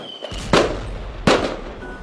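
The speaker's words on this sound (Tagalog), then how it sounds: "Di mababasa yung paputok nila." Two sharp firecracker bangs about three-quarters of a second apart, loud and close, set off for New Year celebrations, each with a brief crackling decay over steady background noise.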